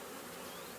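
Honey bees buzz around a hive in a steady, dense drone that stays loud and even throughout the short moment, with no voices.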